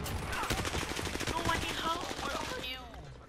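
Call of Duty Modern Warfare gunfire, with dense rapid automatic bursts close by that fade out near the end, while a voice talks faintly underneath.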